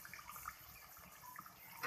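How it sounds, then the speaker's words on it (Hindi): Water is poured in a small splash into beef korma simmering in a cooking pot, a soft, close liquid trickle lasting under two seconds with no talking. "अब इसके अंदर थोड़ा सा पानी ऐड करेंगे, बिल्कुल थोड़ा सा"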